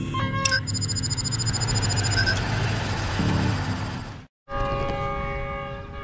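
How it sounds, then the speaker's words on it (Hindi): A Pakistan Railways express, the 7 Up Tezgam, led by a U20 diesel locomotive, passes Emanabad railway station; loud, close horn blasts sound over a heavy rumble, which briefly cuts out before more horn tones follow. "फोर फाइव सेवन ज़ीरो जी U20 लीड कर रहा है 7 अप तेज़गाम को"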